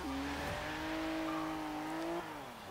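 A 1973 Porsche 911 Carrera RS with its 2.7 litre flat-six in Forza Horizon 3 revs loud and close, its engine note climbing steadily, then dropping sharply near the end.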